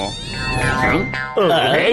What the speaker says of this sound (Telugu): ఊళ్ళో ఉన్న పిల్లులు మొత్తం ఇక్కడే ఉన్నాయే